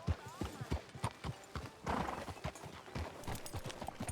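Horse hooves clip-clop steadily and close in Red Dead Redemption II, a quick repeating rhythm of hoof strikes with a brief whinny-like sound and background game ambience.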